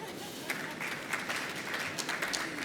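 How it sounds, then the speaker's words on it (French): An audience applauds at a conference on robotics and logistics, a steady wash of clapping from many hands at moderate volume, heard at a slight distance in a hall. "On t'applaudit déjà."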